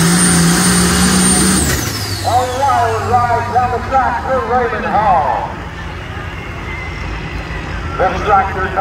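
International 1066 tractor at a truck and tractor pull, its engine roaring loud and close at first, then dropping away to a lower rumble while harsh, wavering mechanical whines and crowd noise carry on.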